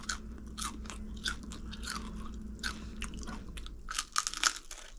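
Crunchy salmon fish rind being chewed close to the mouth, a steady run of crisp bites and crackling crunches that grows louder and denser toward the end, with no talking.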